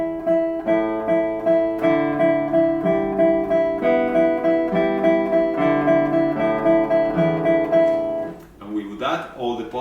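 Classical guitar tremolo exercise in triplets, with the thumb bass note sounding together with the first note of each triplet; a clear, close, steady plucked pattern of sustained chords, with a brief voice at the end.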